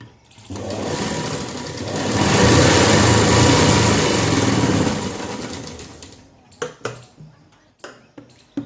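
Sewing machine stitching darts on a katori blouse, a steady whirring run of stitches that swells loud for several seconds, then stops, followed by a few sharp handling clicks.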